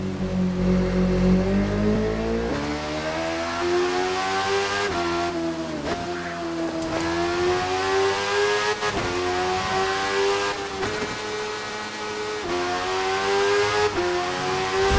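Car driving in the video game My Summer Car, an engine whose pitch climbs and drops through repeated gear changes and revs, fairly loud and steady throughout, with no talking.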